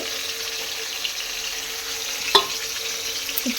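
Potatoes fry in hot oil with a steady, soft sizzle throughout, broken by one sharp utensil clink midway and a few faint taps near the end.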